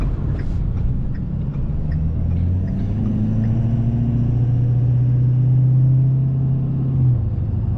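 Cabin of a 2013 Ford F-450 Super Duty Lariat pickup driving slowly through city streets, with a steady, loud low engine drone and road rumble that continues throughout and rises slightly in pitch partway through.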